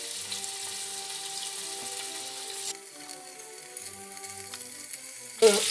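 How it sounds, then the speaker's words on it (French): Pork shank browning in hot oil in a pan, a steady close sizzle and fry throughout with faint stirring clatter, ending in a brief louder scrape or splash. "Je vais à présent commencer à faire revenir mes viandes. Je commence. Donc mon huile est bien chaude."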